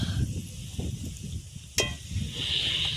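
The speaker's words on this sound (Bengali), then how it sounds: "আমাদের এদিকে বাদাম কারি পাতা ভেজে রেখে দিচ্ছি" Peanuts and curry leaves fry in hot oil with a soft, continuous sizzle and hiss, broken by one sharp click partway through; the sizzle swells slightly toward the end.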